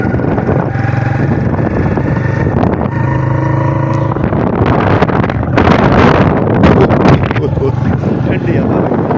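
Cool wind in the open rural farmland of Punjab, with fields of maize, buffets the microphone in a loud, steady, rumbling roar that lasts throughout, with a low hum underneath.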